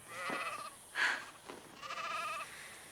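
Sheep bleat several times in a row, wavering cries spaced across a few seconds, fairly close and clear with no talking.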